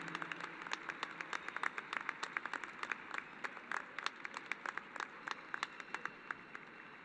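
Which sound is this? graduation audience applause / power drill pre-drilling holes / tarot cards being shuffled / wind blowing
graduation audience applause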